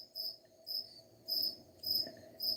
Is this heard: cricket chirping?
yes